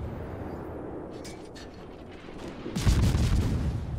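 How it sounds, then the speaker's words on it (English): A warship's guns fire a salvo in a naval battle video game: a heavy, booming blast bursts in partway through after a quieter rumbling stretch, loud and close. "You see, that was the last salvo."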